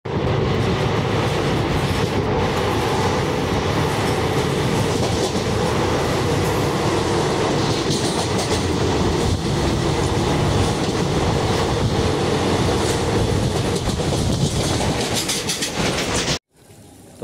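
Sleeper-class passenger train on the way to Delhi, rolling steadily on its rails with a loud, continuous rumble and clatter, no talking, until the sound cuts off abruptly near the end.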